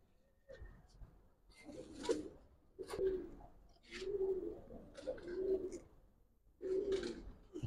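A Giribaz pigeon coos close by in soft, throaty repeated bursts, about six low warbling calls spaced roughly a second apart, with light rustling between them.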